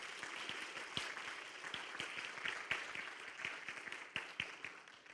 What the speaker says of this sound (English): So just give them a big applause.